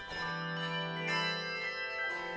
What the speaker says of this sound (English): Conductor Jessica Westgard and the Tintinnabula Handbell Choir are making noise to break the stereotypes behind handbells.